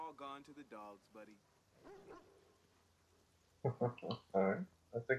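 Video game dog from Watch Dogs 2 gives a few short yips and barks near the end, after someone talks at the start, with a pause between.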